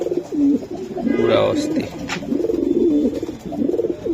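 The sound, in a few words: racing pigeons cooing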